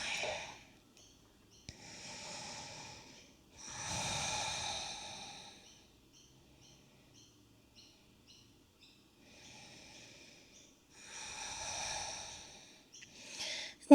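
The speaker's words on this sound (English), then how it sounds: "Take another 2 deep breaths here." Slow, deep breaths during a yoga session, four long airy inhale-exhale swells spaced across the stretch, close and fairly soft, with quiet pauses between and no talking.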